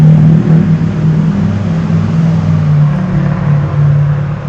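A car drives by on a busy town street, a loud, steady engine rumble close by that holds through the moment and fades slightly at the end, with no talking.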